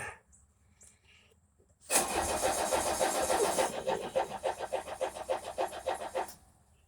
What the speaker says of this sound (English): we're going to crank it up.